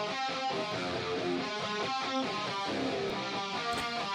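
A looped, heavily processed music stem drenched in chorus, with dense layered harmonic tones pulsing in a steady rhythm at an even, moderate level and no voices.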